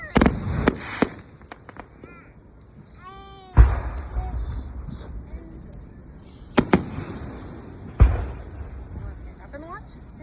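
Backyard consumer fireworks go off in a series of sharp, loud bangs and crackling pops, some with whistling rising tails, spaced irregularly across the span, with people talking and reacting between the blasts.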